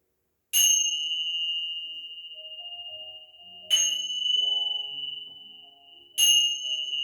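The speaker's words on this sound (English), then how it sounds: "Let your mind, your body, and your soul absorb the vibrations of the bells" Meditation bells ring during a chair yoga session, struck three times at even intervals, each clear ping lingering in a long, fading resonance in a quiet room.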